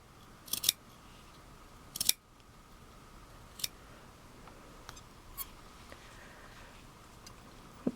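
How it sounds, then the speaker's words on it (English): Scissors trimming excess cloth doll fabric between sewn fingers, leaving about an eighth-inch seam allowance: a few quiet, separate snips, two sharper pairs near the start and then scattered single cuts, close and faint. "Trimming away that excess fabric."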